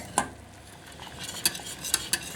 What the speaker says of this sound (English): So I'll just carry on whisking this and I'll show you once it's all melted.